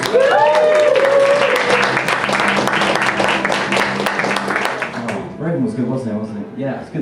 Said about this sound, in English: Lizzie Swinburn, give her another round of applause.